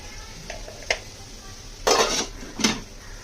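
A metal lid is set onto a cooking pot of dried val papdi vegetable with the gas switched off, giving a couple of light clinks followed by two louder close metallic clanks and rattles, with no talking.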